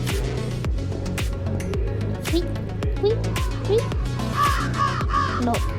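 Crow cawing inside a metal-themed horror video game, its harsh caws repeating in a steady series over droning, rhythmic game audio.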